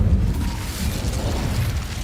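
An Incendio fire spell is cast in Hogwarts Legacy, heard as a short low whooshing burst of flame that rumbles on for a couple of seconds, with no speech over it.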